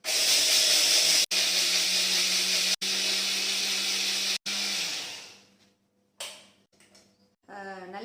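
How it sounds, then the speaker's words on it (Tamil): A mixer grinder blends ragi with a little hot water, running loud and steady for about four seconds with brief cuts in power, then dying away to quiet before a faint voice. "இப்போ வந்து நான் அரைக்க போகிறேன்."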